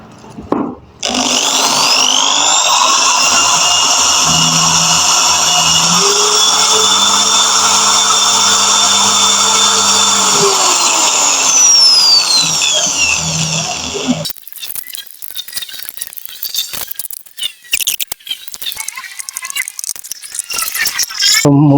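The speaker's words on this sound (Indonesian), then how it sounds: "Eksekusi bor." A power drill whines steadily for several seconds, its pitch shifting as it bites, then cuts off, followed by clattering and handling noises.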